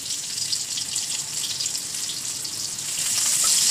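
Garlic, a dried chili and a little onion going into hot oil, giving a bright, continuous frying hiss that swells slightly toward the end, close up with no talk.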